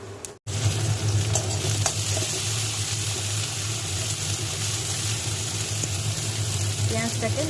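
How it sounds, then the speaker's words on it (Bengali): Onions fry in mustard oil in a wok with dried red chillies and bay leaves, a loud continuous sizzle and crackle with occasional stirring scrapes, steady from start to finish after a brief gap at the beginning. "পেঁয়াজটাকে লাল করে ভেজে নেব।"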